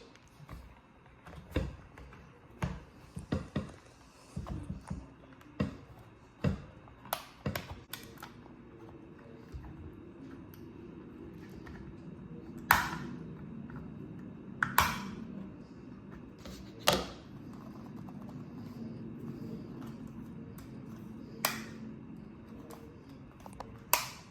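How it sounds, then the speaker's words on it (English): A plastic trim tool pries the mirror bezel off a BMW E46 M3, giving a series of sharp plastic clicks and snaps, close and fairly quiet, clustered early and then spaced out over soft handling noise. "go along this seam with the same kind of trim tool, something plastic"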